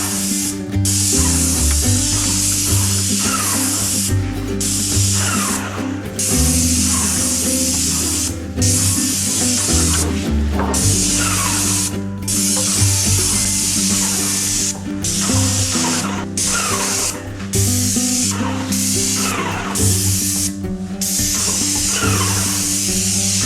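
A paint sprayer hisses steadily and loudly while coating built-in cabinetry, the spray broken by short pauses between passes.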